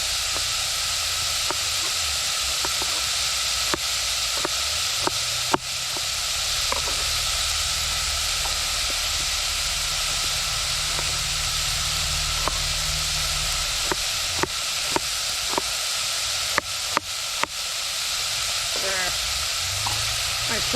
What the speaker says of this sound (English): Very efficient stove.